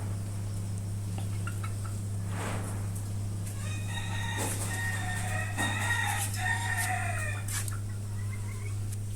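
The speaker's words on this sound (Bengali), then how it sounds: "এক একটা ঝুড়ির মধ্যে 3টা করে মুরগি সুন্দর হয়েছে।" Chickens packed three to a basket for sale cluck and crow nearby over a constant low hum, with bursts of squawking that grow busier midway.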